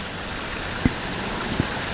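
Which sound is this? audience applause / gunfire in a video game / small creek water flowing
small creek water flowing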